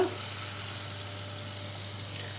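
A steady, even sizzle of idli-batter appam frying in hot oil, close and continuous with no talking.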